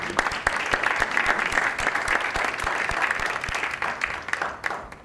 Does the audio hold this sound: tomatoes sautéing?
no